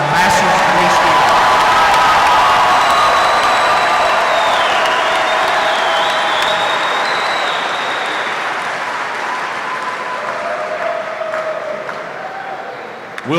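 A large audience at a university commencement ceremony applauds and cheers for master's degree graduates, loud dense clapping with whoops and shouts that gradually thins and fades over several seconds.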